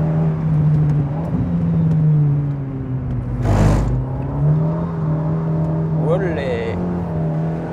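The Alpine A110 Ravage engine drones steadily while driving, its pitch rising and falling with revs under someone speaking French, with a brief burst of noise near the middle.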